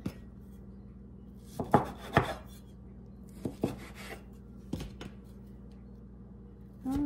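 A knife cuts through scone dough for apple pecan scones on a floured surface, giving a few soft, muffled thuds and scrapes spaced apart against a quiet kitchen background.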